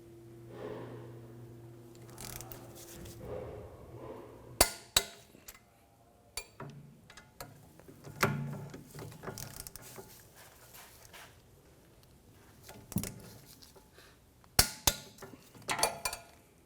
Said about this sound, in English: we're going to go ahead now and torque these bolts down to 37 foot-pounds